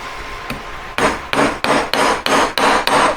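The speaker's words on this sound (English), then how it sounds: "then I'll put it on the ring stick and start bashing it about and filing it" A hammer strikes a jewellery ring shank on a steel ring stick in about eight sharp, ringing blows, first a few light taps, then a steady rhythm of loud, close strikes with no talking.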